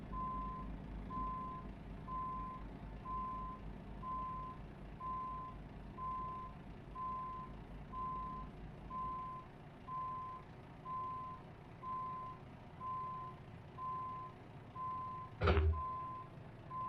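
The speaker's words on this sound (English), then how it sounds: "Just reverse enough to get past this truck so I can go forward and turn." Steady, evenly spaced reversing beeps from a truck in American Truck Simulator, a pure repeating tone over low engine rumble, ending with one brief loud thump near the end.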